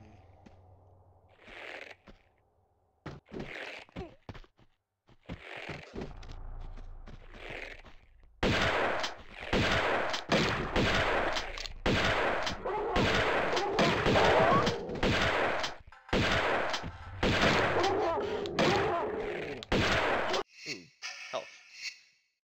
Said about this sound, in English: I think I'm going to stick with the shotgun for now